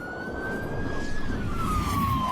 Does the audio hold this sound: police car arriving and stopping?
yes